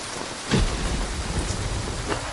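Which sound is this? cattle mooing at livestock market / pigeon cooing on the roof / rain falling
rain falling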